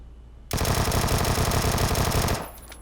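Sustained full-auto burst from a Vector submachine gun fitted with a flash hider in PUBG, loud and dense, rattling for about two seconds after a brief quiet start, then cutting off.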